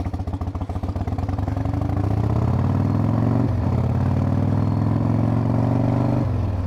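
A 1997 Harley-Davidson Wide Glide V-twin engine idling nearby with a loping, uneven rumble, steady and fairly loud, with no talk over it.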